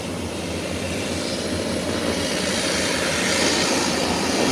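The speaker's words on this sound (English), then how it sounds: "Eastern Air is taxiing." Eastern Air airplane taxiing at an airport, a loud steady engine drone and roar that swells slightly over the few seconds, with no voices.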